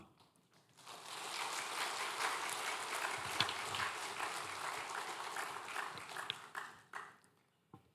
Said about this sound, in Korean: 나오실 때 사랑과 축복의 박수로 목사님 맞도록 하겠습니다.